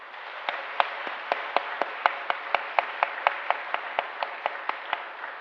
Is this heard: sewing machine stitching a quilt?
no